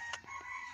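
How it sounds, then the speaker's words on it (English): A rooster crowing, one short clear call heard fairly close and on its own, with no talking. "Rooster."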